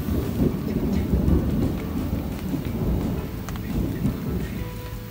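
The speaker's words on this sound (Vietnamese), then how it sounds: "Trời vừa nổi cơn giông rất lớn." Heavy jungle thunderstorm: steady loud rain pours down with deep, continuous rumbling thunder rolling underneath, no voices.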